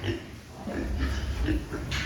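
Young fattening pigs, about 60 kg and 70 days past weaning, grunt and oink in a farm pen: low, rough snorts come in short bursts over a constant background murmur, close by and moderately loud.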